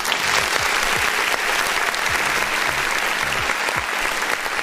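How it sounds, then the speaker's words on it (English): Audience applause at a live indie music review show, a steady roar of clapping lasting the whole stretch with low tonal bleeps beneath it and no talk over it. "Can we clap for that?"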